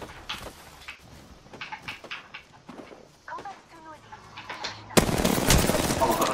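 Apex Legends gunfire crackles in short bursts and single shots under a player's talk, with a louder sustained volley of shooting at the end.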